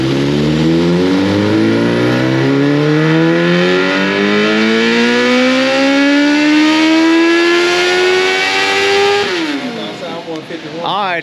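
A Suzuki GSX-R 1000 motorcycle engine revs hard on a dyno, pitch climbing steadily through the gears for about nine seconds before cutting off sharply; loud and close, with no talk over it.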